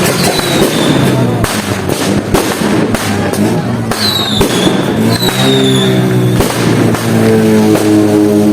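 Fireworks bursting over an Islamabad celebration, dense continuous booms and crackles with whistling rockets rising throughout, loud and close, with a crowd murmuring underneath.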